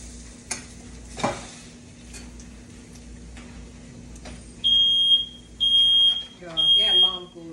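A smoke alarm goes off in a kitchen during breakfast cooking of croissants and eggs, three loud sustained beeping bursts in the last few seconds, following quieter stirring and frying sounds with a couple of sharp clatters.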